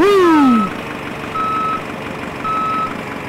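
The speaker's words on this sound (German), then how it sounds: "Also Rückwärtsgang. Klingt sogar halbwegs nach einem echten Lastwagen." A heavy transport truck in the Schwertransport-Simulator video game reverses, its loud engine tone sliding down at the start before evenly spaced reversing beeps repeat three times, each lasting about half a second.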